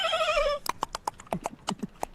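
A horse lets out a short neigh, then hooves clip-clop in a quick uneven rhythm of about a dozen distinct hits, close and clear with no talk.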